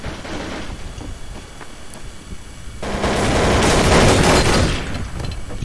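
Rapid automatic gunfire from a Counter-Strike: Source match, sparse distant shots early on, then a dense, loud burst of sustained firing that swells and fades toward the end.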